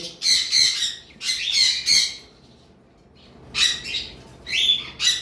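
Pet pineapple conures and double red parrots let out harsh, shrill squawks in several clustered bursts, with a short quiet gap in the middle before more calls follow, loud and close.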